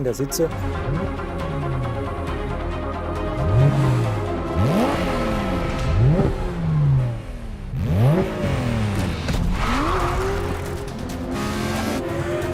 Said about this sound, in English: Here we pair a nearly purebred engine derived from motorsport with extremely low vehicle weight